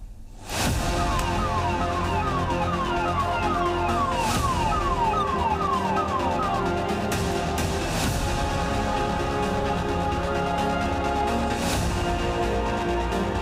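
Ambulance sirens wail in repeated rising and falling sweeps outside a large hospital in Delhi, loud and close over constant street and traffic noise, with no talk.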